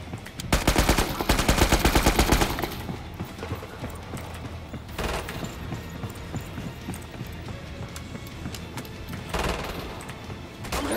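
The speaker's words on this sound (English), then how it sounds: "This rifle has so much recoil." A rifle firing during a video game boss battle, heard as a loud rapid burst of shots at the start, then scattered clattering reports and mechanical clicks under a dense game soundscape.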